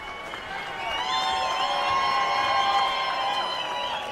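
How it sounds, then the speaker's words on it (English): A boxing crowd applauds and cheers after a ten-round fight, a sustained wash of clapping and shouting that swells after the first second and stays loud, with a bright tonal hum running through it. "Let's give them both a big round of applause."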